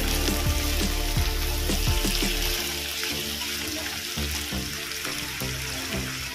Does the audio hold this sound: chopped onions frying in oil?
yes